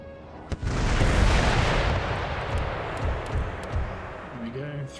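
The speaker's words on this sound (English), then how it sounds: "They're going to shoot at you with artillery." Artillery fire in the video game Empire: Total War, a heavy booming blast followed by a long rumbling roll of distant cannon fire, with a voice briefly heard near the end.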